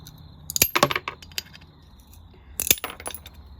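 Mosaic nippers snap a ceramic cup into pieces, giving two sharp, close cracks followed by brief clinking and rattling of shards, separated by a quiet gap.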